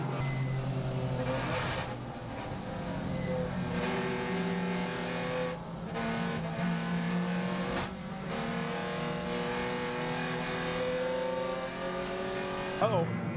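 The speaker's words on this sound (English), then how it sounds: "Green flag flies, and we're racing 3 wide." Race cars accelerating three wide off the green flag at Lime Rock, engines roaring loud and continuous with rising and falling pitch sweeps as they rev through the gears.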